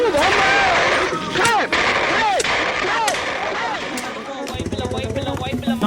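Loud bomb-like bangs go off in a rapid, uneven series at a Maaritheyyam Theyyam festival. Whistling, crackling bursts are mixed with a noisy crowd, and a denser rattling volley closes the sequence.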